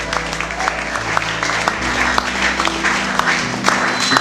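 A church congregation at a jubilee service in Kisangani breaks into applause and acclamations, a steady dense clapping with scattered cheers and a low hum running beneath throughout.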